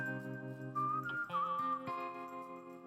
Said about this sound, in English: That stereotypical Western with like whistling, and I just love it so much